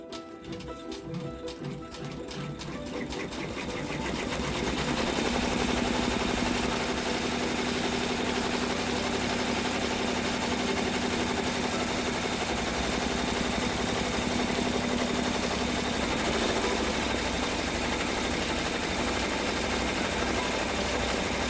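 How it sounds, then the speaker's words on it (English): An embroidery sewing machine top stitching a zipper bag, a loud, close, steady mechanical whir of rapid needle strokes that builds after a few seconds and runs on without pause. "Now it's going to top stitch it."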